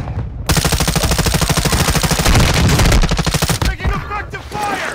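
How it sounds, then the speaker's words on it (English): Rapid automatic gunfire in Call of Duty Warzone, a loud sustained burst of closely spaced shots lasting several seconds, then tapering into scattered sounds and game voice lines. "Taking effective fire!"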